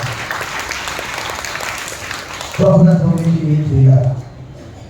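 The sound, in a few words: applause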